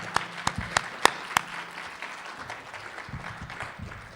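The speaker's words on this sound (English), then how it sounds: "join me in the applause in welcoming the candidates." Applause from an audience welcoming candidates at a city candidate forum; a few sharp claps open into light scattered clapping that thins and fades, fairly faint overall.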